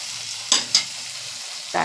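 Poppy seed paste, white mustard paste and green chillies fry in a pan with a steady close sizzle, broken by two sharp stirring scrapes and a third near the end.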